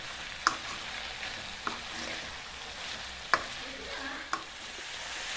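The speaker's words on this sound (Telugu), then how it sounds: "ఇవన్నీ వేసుకున్న తర్వాత దీన్ని ఇలా కలుపుకోవాలి" Bean and tomato curry stirred in a pan over a steady low sizzle, with a few sharp spoon knocks against the metal rim spaced through the stirring, close and with no talk.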